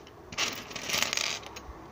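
Small screws from a Boda 441 lock being handled, giving a short burst of light metallic clinks and scraping, close and fairly quiet, with no talk.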